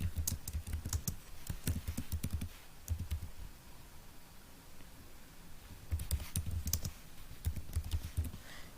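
A computer keyboard is used to type a description, with close, busy bursts of keystrokes, a pause of a few seconds in the middle, then more quick typing.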